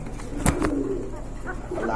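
Domestic pigeons at a pigeon market coo softly in a brief low burst, with a light flutter near the start, while people talk in the background.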